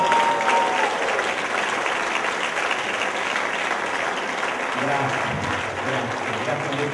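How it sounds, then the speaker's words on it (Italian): Loud, sustained crowd applause at a charity rock concert as a singer is welcomed, continuous clapping with voices and music faintly mixed in toward the end. "E ora accogliete con un applauso esilarante"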